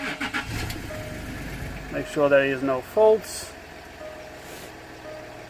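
A Land Rover L319 cranks and fires up, a short burst of starter whine followed by the engine catching, with someone talking before and over it in a quiet garage setting.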